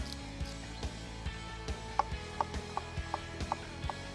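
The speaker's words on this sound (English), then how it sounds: "we're going to do a rough little chopped shallot" A good kitchen knife roughly chopping a shallot on a board, giving a steady series of crisp, close taps about every half second.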